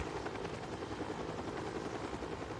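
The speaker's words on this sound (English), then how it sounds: "brother David, still in critical condition, was taken by helicopter to Children's Mercy Hospital 20 miles away" A helicopter's rotor churns steadily and loudly close by, a dense throbbing roar that holds without a break.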